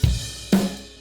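Three punchy drum hits from a gated room microphone, each cut off sharply, spaced about half a second apart, with a roomy boom that stops abruptly rather than ringing out.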